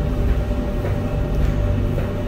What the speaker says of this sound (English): If you hear the dryer to my left and then behind me you have the furnace